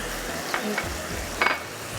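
Masala frying in a pan for a chapli kabab gravy, with a spoon scraping and stirring in a few distinct strokes over a steady low sizzle.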